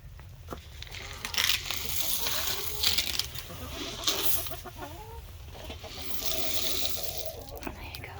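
Backyard chickens cluck and chatter while being fed mealworms, with their soft calls layered over rustling and scratching nearby and a person talking to them throughout.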